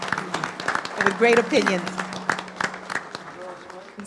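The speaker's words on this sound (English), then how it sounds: "Let's give them a round of applause." Applause from the audience at a city commission meeting, scattered claps of moderate loudness mixed with talking voices over a low hum.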